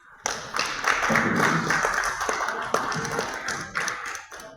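Congregation clapping during an evening church teaching service, a steady wash of applause with some sharp individual claps and thuds, moderately loud and continuing throughout.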